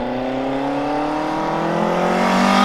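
A turbocharged Nissan Micra engine revs hard at full throttle in second gear, climbing steadily in pitch, loud and close, with a whooshing turbo flutter over the rising drone.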